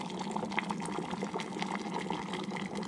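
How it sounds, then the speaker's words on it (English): Water at a steady rolling boil inside a portable foldable electric travel kettle, a continuous close bubbling and hissing wash with no voices, even in loudness throughout. "it looks like it's just maintaining that boil"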